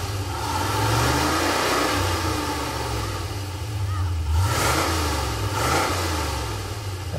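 A classic car engine rumbles loud and close at an outdoor cruise-in, idling roughly with a couple of short revs swelling near the end.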